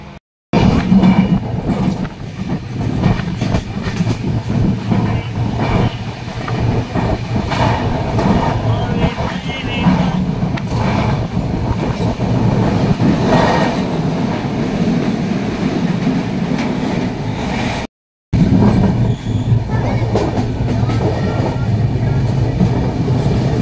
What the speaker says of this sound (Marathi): ट्रेन निघाली,